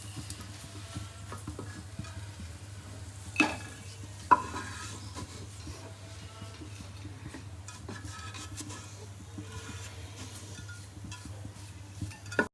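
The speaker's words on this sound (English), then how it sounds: "add chopped onions and fry them until they become golden brown in color" Chopped onions frying in soybean oil in a pan, a low continuous sizzle with light stirring and a couple of sharp utensil clinks against the pan, heard close with no voices.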